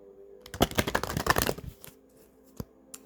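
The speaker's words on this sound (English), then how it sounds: "let me just quickly shuffle the cards" A deck of cards being shuffled, a quick riffle of dense, rapid flutters lasting about a second, followed by a couple of soft taps as the cards settle, close up and alone.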